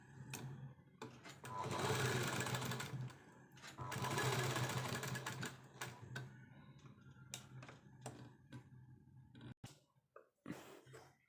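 A home sewing machine stitches a fine, narrow seam along the edge of a baby frock. It runs in short and long bursts of quiet, close whirring and ticking, separated by pauses and small handling clicks.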